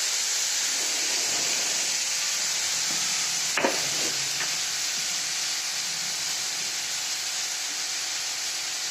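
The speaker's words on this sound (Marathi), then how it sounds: "आता ह्याच्यामध्ये थोडं मीठ टाकते म्हणजे कांदा चांगला खरपूस भाजते." Finely chopped onion with salt frying in a pan gives a steady, even sizzle throughout, with one brief scrape or stir near the middle.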